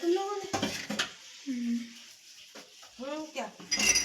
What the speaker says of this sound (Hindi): यहाँ पे ना मैं बर्तन धोने जा रही हूँ